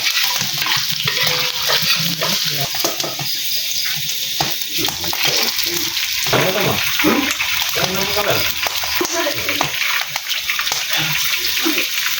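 Onions frying in a pan for a large batch of nasi goreng, a steady loud sizzle and crackle with stirring scrapes throughout, people talking in the background.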